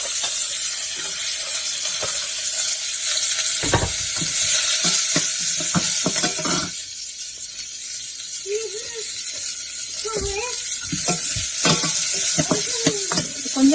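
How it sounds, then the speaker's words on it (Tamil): Onions, curry leaves and two green chillies sizzle and fry loudly in hot oil for kadhi pakora, with steady crackling broken by clatters of a spoon stirring the pan. "வெங்காயத்தை போட்டுடலாம்."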